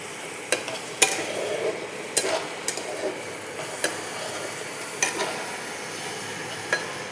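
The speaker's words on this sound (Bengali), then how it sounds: "খানিকটা কষবো যতক্ষণে এর ভেতর থেকে পেঁয়াজ আদা রসুনের গন্ধটা বেরিয়ে যাচ্ছে।" Onion, ginger and garlic frying in a pan for a cabbage curry, a steady soft sizzle broken by a handful of sharp spatula scrapes and taps spread across the stretch.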